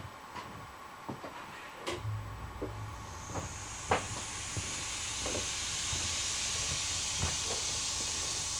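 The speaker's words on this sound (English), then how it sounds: "go over and turn the air compressor on" An air compressor in a machine shop starts up and runs as a steady, loud hiss that builds from about three seconds in and holds, with scattered clicks and knocks from handling nearby.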